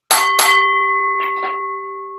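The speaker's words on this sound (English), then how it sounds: "We'll give the closing bell." A wrestling closing bell rings out, with two sharp strikes close together followed by a long sustained metallic ring that slowly fades, loud and close with no talk.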